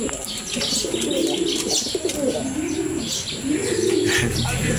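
Pigeons from a homing or racing loft, including a large hen being paired, coo in a steady low murmur close by, with soft chirps and faint wing flutters mixed in over continuous background noise.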